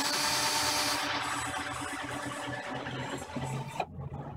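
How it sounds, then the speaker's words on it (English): A small, low-powered cordless drill whirs steadily up close for several seconds, its motor buzzing loudly before it cuts off abruptly. "This is just a nice weak drill, good for this kind of stuff."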